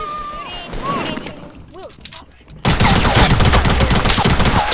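Gunfire in a multiplayer shooter video game, first several scattered shots alongside excited voices, then dense, loud continuous automatic fire for the final two seconds.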